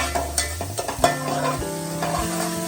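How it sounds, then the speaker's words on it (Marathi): Turmeric roasts in hot oil in a pan for a Kolhapur-style mutton curry, sizzling up close while a utensil stirs and scrapes in uneven clattering strokes. "आता याच्यामध्ये हळद टाकलेली आहे तेलामध्ये त्याची हळद भाजून घ्यायची"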